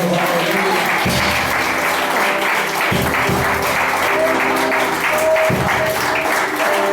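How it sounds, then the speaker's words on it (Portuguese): Applause from a church congregation during a Sunday service, steady and dense clapping filling the room, with faint voices or music tones underneath. "Pode aplaudir a Jesus"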